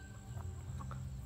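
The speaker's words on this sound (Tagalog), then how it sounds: "May mga manok." Chickens clucking at a backyard farm, a few soft, brief clucks scattered over a low steady background hum, fairly faint and with no talking over them.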